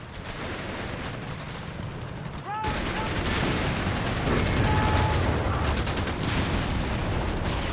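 Sustained machine gun fire in a Company of Heroes 3 battle, rapid bursts rattling on and off over a busy backdrop of distant shots and mechanical noise, growing louder midway.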